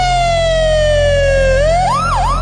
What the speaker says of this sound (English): Streams of ambulances came to carry away the dead and the injured.